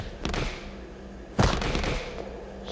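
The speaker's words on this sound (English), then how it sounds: "also they're falling down the stairs" Wrestlers tumbling down stairs in a wrestling video game, heard as two heavy thudding impacts about a second apart, each with a short rumbling tail over steady background noise.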